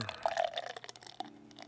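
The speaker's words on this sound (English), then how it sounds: "Pop that open. Give it a pour." Dark 8% pumpkin spiced cheesecake beer, brewed with lactose, vanilla and cocoa nibs, pours from a freshly opened can into a glass, a soft gurgling stream that tapers off into quieter fizzing.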